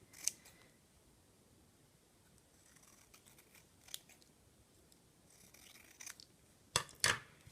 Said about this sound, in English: what I'm going to do is cut off the extra from the edges